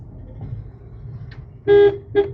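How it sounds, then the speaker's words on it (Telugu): Two car horn honks, one longer and one short, sound over a low rumble of traffic and engine noise, fairly close and loud. "అటు వాళ్ళకి హారన్ ఇటు వాళ్ళకి హారన్"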